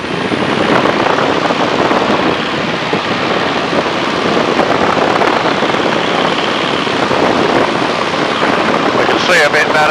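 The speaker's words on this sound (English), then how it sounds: "we'll be giving it full power, getting the tail up, bouncing along until it gets airborne about 45" A de Havilland Tiger Moth biplane engine roars at full power during its takeoff run at Duxford, a loud, continuous drone with wind rush, with people talking over it.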